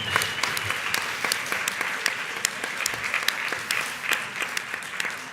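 Moderate audience applause at an annual general assembly of a lawyers' association, a smaller group clapping steadily with distinct individual claps audible throughout, no talk over it.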